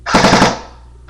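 A short, rapid burst of four or five clattering shots comes from an Echo1 MP5SD6 full-metal blowback airsoft gun on full auto. The burst is close and loud, then fades out quickly.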